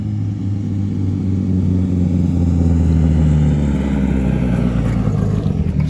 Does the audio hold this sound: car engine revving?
yes